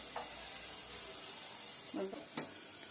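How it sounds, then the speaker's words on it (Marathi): Onion with a little ginger frying in a covered pan, giving a steady low sizzle throughout with a couple of brief clinks or lid sounds near the end. "झाकण ठेवते म्हणजे लगेच कांदा आपला लाल होईल."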